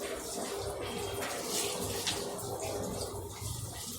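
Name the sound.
tap water running while washing hair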